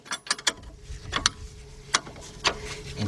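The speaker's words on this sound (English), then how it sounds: "Now we're going to take our 13mm line wrench" A 13mm line wrench turns a brake line fitting on the right rear wheel cylinder of a 2002 Mercury Sable LS, giving a handful of sharp metallic clicks and ratchet-like ticks, close and fairly quiet, with no talking.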